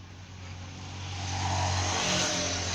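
Traffic on the Dhaka-Sylhet highway, a vehicle engine swelling from a moderate hum to a louder rushing pass over a steady low drone, heard at middle distance without talk.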